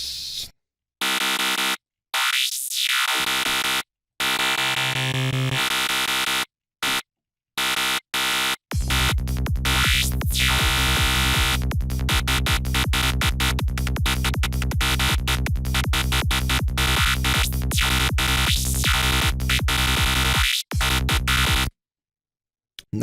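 An FM psytrance synth tone built with phase modulation plays as stuttering, chopped bursts at first, then settles into a dense, rapidly gated rhythmic buzz with sweeping pitch bends.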